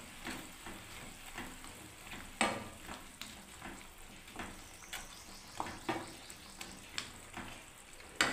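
Gram flour fritters tipped into a frying vegetable curry with brinjal, drumsticks and ridge gourd, giving a steady sizzle with intermittent stirring scrapes and small spattering bursts close by.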